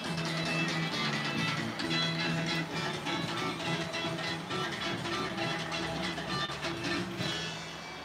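A radio plays music inside a vintage antique store, close and fairly steady, with a busy mix of instruments and some room clatter throughout, no one speaking.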